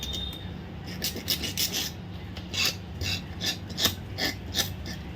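Metal file rasping rust off a small spring from a Boat music system remote control, a fast series of close, scratchy strokes in an uneven rhythm, with no talk.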